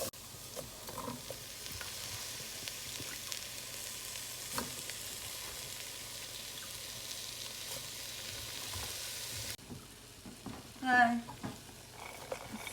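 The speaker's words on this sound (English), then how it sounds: "I put the minced carrots over the onions, and I will saute them together." Minced carrots laid over onions saute in a pot, a soft steady sizzle with occasional stirring clinks, quieter after a cut partway through and a short scraping burst near the end.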